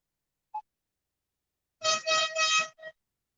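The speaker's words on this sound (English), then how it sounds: "Or yeah, using an air horn, just driving around" An air horn blown by kids driving around a park, one brief toot followed after a pause by a series of three longer blasts and a short final honk, fairly close and clear.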